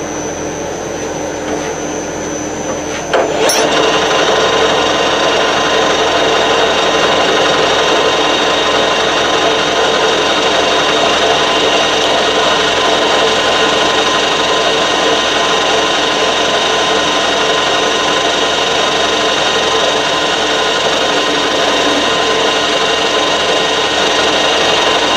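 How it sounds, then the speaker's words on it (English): A power drill starts up abruptly a few seconds in and then runs as a loud, continuous grinding whine while boring straight through the middle of a 1954 Chevrolet piston tail light part, holding steady to the end. "We'll drill straight through"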